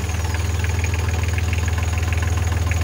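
A Yanmar 3YM30 marine diesel engine on a Sunrise 34 sailboat idling, a steady low rhythmic chugging with a faint knocking pulse, close and continuous.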